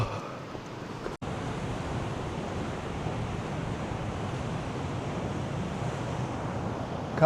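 Atlantic Ocean waves on the Northern Ireland coast near the Giant's Causeway, a steady broad roar of surf mixed with wind buffeting the microphone and a brief dropout early on, with no talking.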